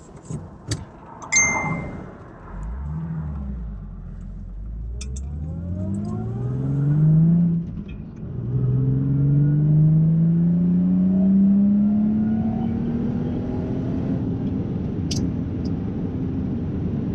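Mercedes Kompressor car with a factory stock manual gearbox, its engine revving hard to high RPM, the loud rising pitch sweeping up through gear changes and holding near the top, with only light background sound.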